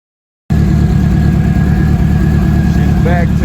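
A car engine runs steadily after a turbo rebuild, a continuous mid-pitched idle with a faint high whine throughout, starting abruptly after a moment of silence.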